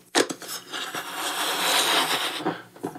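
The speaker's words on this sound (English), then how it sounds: "I have this balloon here. So if I blow it up" A rubber balloon being inflated by mouth, heard as a continuous breathy, airy rush with a few short puffs and small squeaks at the start and end, close and fairly quiet.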